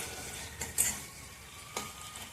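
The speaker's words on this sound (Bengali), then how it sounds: "এবার মশলাটা একটু নাড়াচাড়া করে কষবো।" A spatula scrapes and clinks against a pan as spice paste with onions and salt is stirred and fried, giving a few sharp metallic taps over a soft, steady sizzle.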